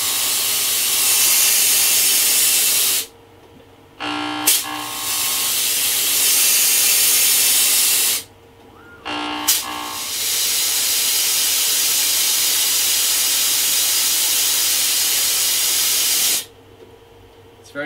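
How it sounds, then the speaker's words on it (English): A moving-head fogger sprays fog in three long, loud hissing bursts, each cut off by brief mechanical clicks and ratcheting from the moving head between blasts, with no speech. "you can actually run the fogger while the head is in motion"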